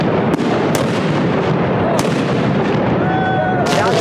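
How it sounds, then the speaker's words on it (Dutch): Fireworks in Valencia set off in a massive barrage, a continuous roar of dense explosions and crackling bursts with several sharper bangs standing out, loud and close throughout. "Massa-explosie, 3 keer."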